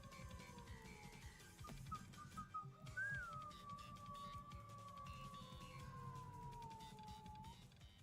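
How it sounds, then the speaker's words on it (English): Person whistling along to game music, a single sustained wavering whistled tone held for several seconds, quiet and close, over a faint steady musical background. "I need to stop whistling to the music."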